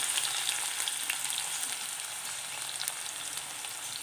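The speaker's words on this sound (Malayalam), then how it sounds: "അതിലേക്ക് ഈ പാവയ്ക്ക കുറേശ്ശെ ഇട്ട് വറുത്ത് കോരി എടുക്കാം" Bitter gourd pieces frying in hot oil in a pan give a steady, bright sizzle with crackling pops, moderately loud and uninterrupted, with no voices.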